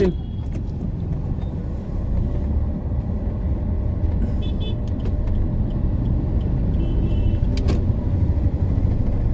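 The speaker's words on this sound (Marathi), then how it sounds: "ट्रॅफिक लागलेलं आहे." Steady road traffic heard from inside a vehicle stuck in a jam on the way to Akkalkot, a continuous low engine rumble with occasional faint higher-pitched sounds over it.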